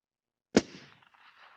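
A single suppressed shot from a Remington 700 .223 rifle fired at long range at steel plates cracks once sharply, then trails off into a faint, brief rumble in otherwise quiet surroundings.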